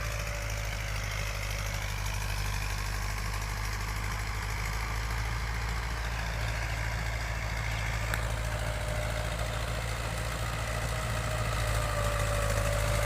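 A tractor engine runs steadily in a kinnow orchard, a continuous low idling drone with a deep rumble and faint rattling vibration, unchanging and fairly close, with no voices.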